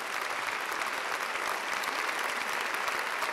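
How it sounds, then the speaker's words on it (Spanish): A lecture audience at Les Arts on Mozart's Don Giovanni applauds an opera singer, producing dense, even clapping from a large crowd that holds steady throughout. "vamos a brindarte un aplauso"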